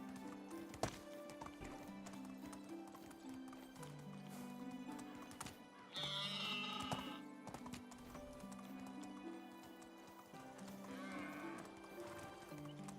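Horse galloping in the medieval farming game Medieval Dynasty, steady rhythmic hoof clip-clop with occasional snorts and a brief whinny, running continuously at moderate level.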